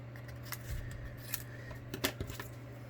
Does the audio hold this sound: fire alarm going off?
no